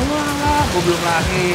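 Steady rain pattering on a surface outside a goat curry and satay food stall, a dense continuous hiss filling the background while someone speaks briefly over it.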